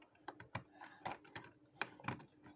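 Computer keyboard keys clatter in quick irregular bursts of clicks at close range, a desk setup with no talking.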